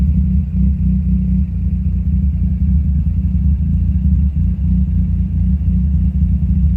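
A Mazda Miata engine idles steadily with a deep, constant low rumble, loud and close, while its idle is being adjusted with no voices over it.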